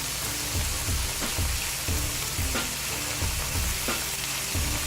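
Shrimp stir-fry steadily in a hot pan for spicy shrimp ramen, with continuous loud sizzling and repeated soft scrapes from stirring.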